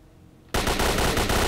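Automatic fire from a PPSh submachine gun in the video game Stalker L.U.R.K. bursts out after a quiet half second, a loud, rapid, steady rattle of shots continuing to the end.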